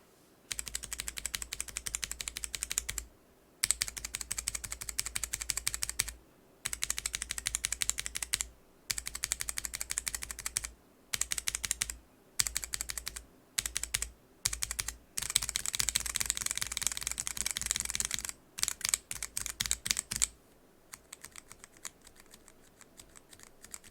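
Typing on a keyboard fitted with unlubed NovelKeys BOX Cream switches and old WASD keycaps, dense close clacking in fast bursts separated by brief pauses, loud and dry with no voices.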